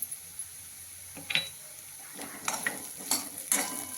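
Spice masala gets stirred into drumstick vegetable in a pan, with a few sharp spoon scrapes and clinks over a soft sizzle, fairly quiet.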